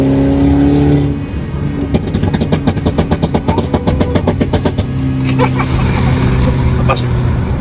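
Car engine revving in manual mode with a rapid train of exhaust pops and bangs, loud and close, crackling bursts between throttle blips, with voices talking over it.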